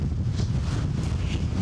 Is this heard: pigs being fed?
no